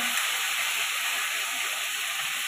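Coriander leaves dropped into hot oil in a home kitchen give a steady, bright sizzle that holds without pause, close and moderately loud.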